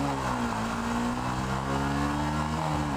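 A Yamaha YZF R125 motorcycle engine revs high toward 8,000–9,000 RPM on a ride from the lights, a steady, loud, buzzing drone with rising harmonic tones heard close up throughout.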